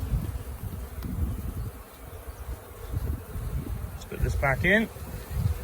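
Honey bees buzz around a hive in a steady, close drone that rises and falls, while a person speaks briefly near the end.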